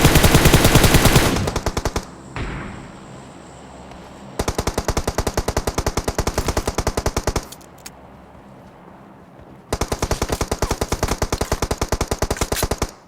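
Rapid automatic gunfire in the video game PUBG comes in long loud bursts of evenly spaced shots, separated by quieter stretches of ambient game noise, with no talking.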